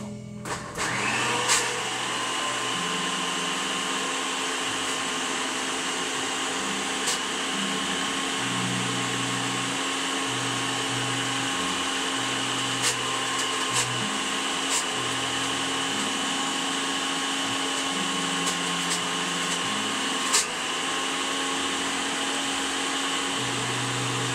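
A kitchen blender whizzes up food for a Christmas meal of ham, turkey and Singapore fried rice, running as a loud, steady motor drone for the whole stretch, its pitch shifting slightly as the load changes, with a few brief clicks.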